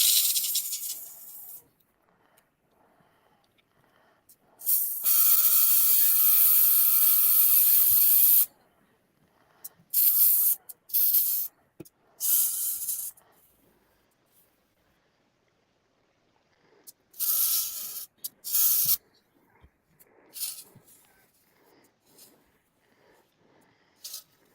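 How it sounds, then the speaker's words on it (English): Water sprays in loud, hissing bursts, one long sustained spray followed by several shorter, choppy spurts separated by quiet gaps. "Spraying water."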